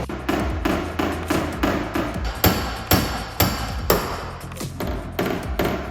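A hammer tapping dents out of a Golf GTI MK II body panel, sharp metallic blows landing in a quick regular rhythm, close and clear, about a dozen strikes with no talking.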